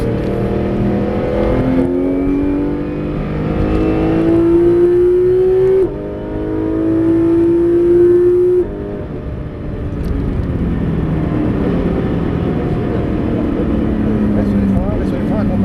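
A Porsche 911 GT3 RS (991) on the Circuit de Clastres track revs up in two rising sweeps, then its engine note drops and settles. It stays loud and close, with a voice talking over it.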